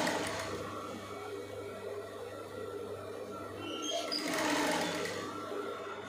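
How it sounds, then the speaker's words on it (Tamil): A sewing machine stitches a blouse neckline rolled to a quarter inch, a steady close whirring drone that runs without pause and swells slightly toward the end. "அப்படியே உருட்டி அப்படியே 1/4 இன்ச்சுக்கே வச்சு தைச்சிட்டு வாங்க"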